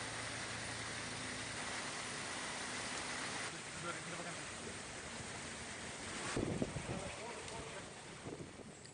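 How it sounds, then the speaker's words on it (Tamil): Storm wind and rough, giant sea waves hit the coast at Puducherry during a cyclone with heavy rain, heard as a steady broadband roar of wind buffeting and surf with a louder gust or crash partway through. "கடலில் பலத்த சீற்றத்துடன் ராட்சச அலைகள் எழுகின்றன"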